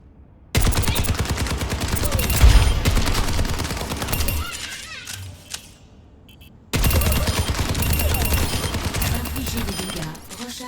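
Rapid bursts of automatic gunfire hammer a training robot in Overwatch 2, loud and dense for several seconds, breaking off into a short lull with faint clicks before a second sustained volley resumes.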